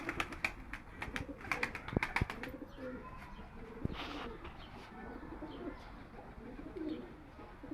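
Pigeons coo in a pigeon coop in low, repeated rolling calls. Sharp wing flaps or clicks come early, and there is a soft background hum throughout.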